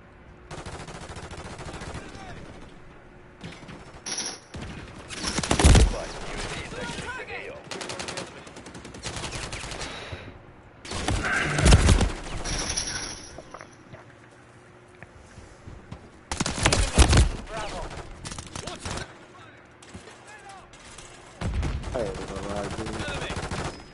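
Bursts of Uzi gunfire in the video game Call of Duty Modern Warfare 3 crackle in rapid, loud volleys separated by short pauses, with game sounds in between.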